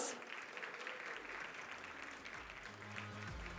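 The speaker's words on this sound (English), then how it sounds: "I'd like a big round of applause." Steady applause from a crowd, a sustained wash of clapping heard at a distance, with faint low tones near the end.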